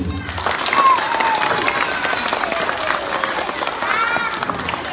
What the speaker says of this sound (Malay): Uncle nak semua orang tepuk tangan.